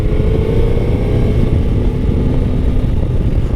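Suzuki GSX-S1000 GX (2024) motorcycle engine pulling steadily under acceleration on a motorway ride, a loud, continuous close engine drone with rumbling wind noise and no talk.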